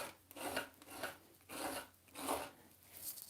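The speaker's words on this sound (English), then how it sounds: "So I'm just going to scrape it off." Paint scraped off a surface in an art journal, close rasping strokes in a slow repeating rhythm of about five passes, with no talk.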